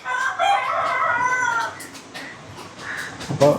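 A rooster crowing in a long, loud, drawn-out call close by, followed by softer clucks and fowl noises around a rural home during the Vishu festival.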